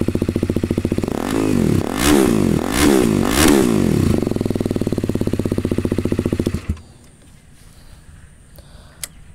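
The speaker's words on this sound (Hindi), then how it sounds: "थोड़ा एक्सलेट करके दिखाता हूँ" A Apache 310 motorcycle with an SC exhaust revs loudly in three quick blips over a steady idle, then the engine cuts off and the sound drops to quiet.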